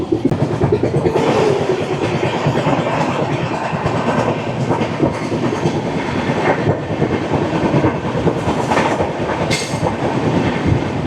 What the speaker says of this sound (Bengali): আমাদের ট্রেন খড়গপুর জংশন ছেড়ে বেরিয়ে এসছে চলেছে বালেশ্বরের উদ্দেশ্যে